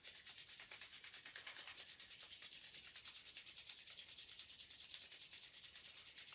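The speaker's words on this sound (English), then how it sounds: "rub the palms together nice and briskly" Palms rub together briskly during a slow yoga session, a soft, steady, rapid swishing rhythm that runs evenly throughout, faint and close, with no talk.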